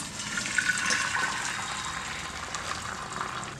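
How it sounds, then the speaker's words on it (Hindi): Boiled noodles poured into a strainer, water rushing and splashing steadily through the mesh into a sink; a continuous close hiss of draining liquid with no talking. "हम एक छलनी लेंगे और उसके ऊपर इनको छान लेंगे।"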